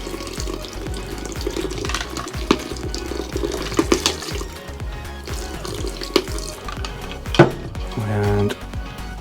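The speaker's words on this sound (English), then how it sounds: "I'll pour some water in to get this thing going." Water splashes into a stand mixer bowl for pizza dough, a near, continuous gushing pour broken by a few clinks of metal and dishes.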